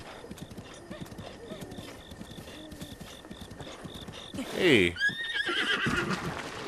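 A horse in the video game Breath of the Wild trots with a steady clip-clop of hooves, then lets out a loud neigh midway, while a person briefly speaks.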